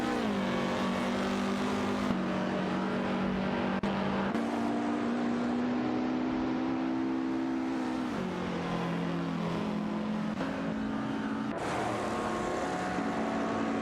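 Race cars including a Lancia Stratos and a Shelby in a racing video game, with a continuous engine drone that repeatedly drops and climbs in pitch through gear changes and throttle lifts, steady and loud throughout, no talk.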